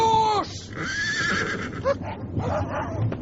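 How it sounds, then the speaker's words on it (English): A horse neighs loudly in a radio drama, giving a sharp whinny at the start followed by further shrill calls and snorts over a noisy dramatic background. "My horse!"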